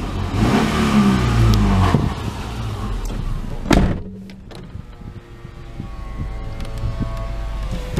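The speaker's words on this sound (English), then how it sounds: "Very typical boxer engine note." Close and loud, a 2008 Subaru Outback's 2.5-liter boxer engine, five-speed manual, revs once, then drops toward idle; a sharp door-like thump follows and the engine note eases into a steady hum.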